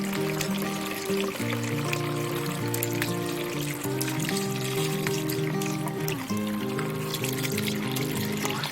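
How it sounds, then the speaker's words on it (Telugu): Homemade grape wine is poured slowly from a container, making a continuous close trickle and splash that holds steady for several seconds, with no talking. "వైన్ దీంట్లో నెమ్మదిగా దీంట్లో పోసుకోవాలండి"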